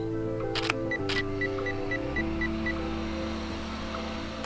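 A Pentax K-1 camera on a two-second timer gives a short run of quick beeps, then several muffled shutter clicks as it takes four pixel-shift frames over a steady low background hum.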